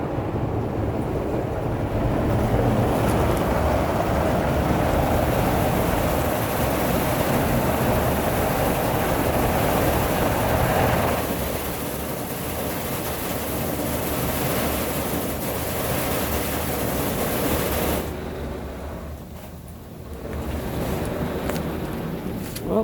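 Inside the Majestic Car Wash at an Esso station in Niagara Falls, water sprays against a car in a loud, continuous hissing rush that eases partway through, dips briefly, then returns.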